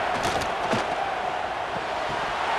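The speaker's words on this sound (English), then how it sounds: "This crowd bringing the energy and noise early." Stadium crowd in the College Football 26 video game, a dense, steady roar with swelling cheers over a short stretch, moderately loud and without clear speech.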